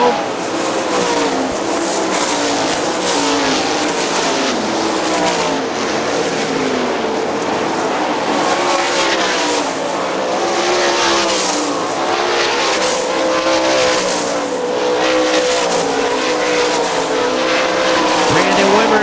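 Sprint cars roar around the dirt oval at Hartford Speedway Park in a dense, continuous engine din with passing cars and tire noise, while a race announcer talks over the action.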